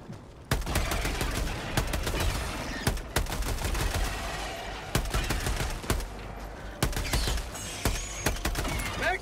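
Semi-automatic gunfire in Helldivers 2: loud, sharp single shots fire one after another at roughly one-second intervals, with mechanical clatter between them.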